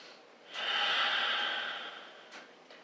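A forceful exhale through the nose during a yoga breathing kriya comes as one long, close, breathy rush that fades out, then a couple of faint short breaths.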